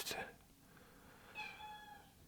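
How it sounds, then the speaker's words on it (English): A cat meows once, a clear, drawn-out call rising out of a quiet room, heard after a brief burst of sound at the start. "And now the cat is meowing."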